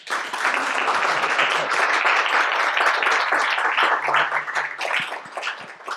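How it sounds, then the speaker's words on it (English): An audience at an architecture exhibition opening in Berlin bursts into warm applause, a thick, continuous roar of many hands clapping close and loud for several seconds before thinning out at the end. "Applause."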